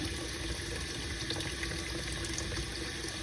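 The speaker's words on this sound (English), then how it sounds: "I'm gonna just let this drain out until the water's looking fairly clear" Steady running water trickling and draining out of a Lamy 2000 fountain pen being cleaned, a continuous close wash of liquid with no voices.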